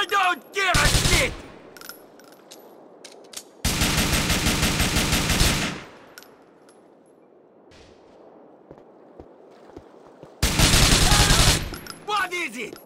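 Loud bursts of rapid automatic gunfire from GTA IV, in three separate volleys of one to two seconds each, close and harsh, separated by quieter stretches with faint shouted voices from the game.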